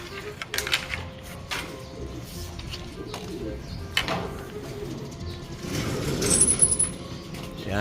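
Racing pigeons coo in a loft, with low murmuring calls scattered through shuffling and clattering movement and a brief higher chirp near the end.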